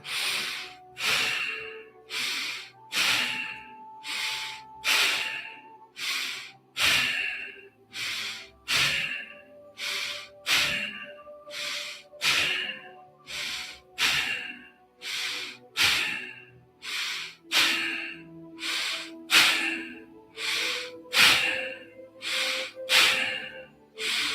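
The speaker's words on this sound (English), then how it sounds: "we're going to begin with 30 rounds of bow breathing, in through the nostrils, out through the nostrils" Rapid pranayama bow breathing in and out through the nostrils, a long series of sharp, forceful sniffing breaths in a steady pulsing rhythm, close and loud with no talk.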